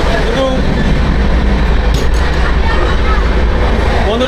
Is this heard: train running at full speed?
yes